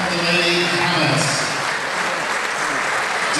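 Loud, dense crowd applause at a girls' high school basketball game honoring players' parents, steady clapping from a packed gym throughout.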